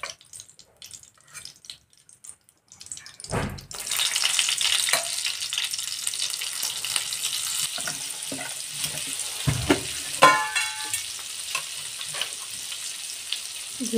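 Butter melts and sizzles in a frying pan beside fried paneer for a masala, the hiss starting abruptly after some quiet clatter and continuing steadily with soft stirring scrapes and a brief watery swish.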